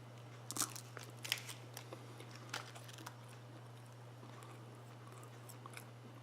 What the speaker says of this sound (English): Let's take a big chomp out of this baby.